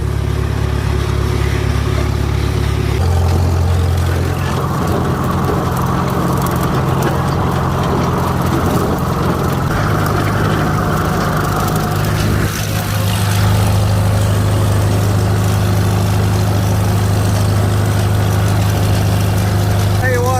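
An antique Farmall tractor engine runs steadily in second gear on a farm, a loud, close, continuous chugging drone that shifts slightly in pitch partway through.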